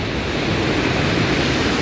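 A famous waterfall in the Mixteca region roars as a dense, steady wash of broadband noise, loud and close, with no voices.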